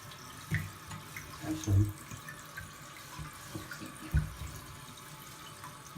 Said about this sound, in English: Now the toilet's filling up.